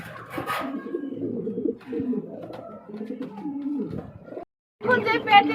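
Domestic pigeons of a breeding pair that already has two eggs coo in low, rolling bursts through most of the stretch, close by, with someone talking over them and a brief gap near the end.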